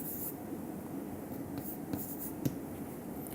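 Chalk or marker writing on a board during a lecture, faint scratchy strokes with a few sharper taps over a low room hum.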